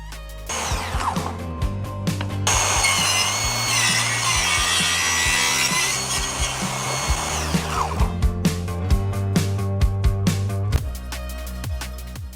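Circular saw cutting a chamfer along a piece of wood, a loud sustained buzzing cut after the motor spins up, then winding down into clattering taps and knocks of the workpiece.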